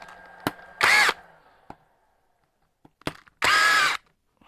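A power driver works on the front suspension mount of a Hobao VS2e RC car. It gives two loud, short whirring bursts about two seconds apart, and light clicks and taps of handling come between them. No voice is heard.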